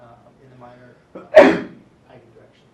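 A single sharp sneeze bursts out between stretches of calm speech, loud and brief against the talking.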